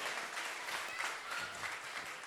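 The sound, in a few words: audience applause at temple ceremony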